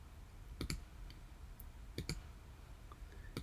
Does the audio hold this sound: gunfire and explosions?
no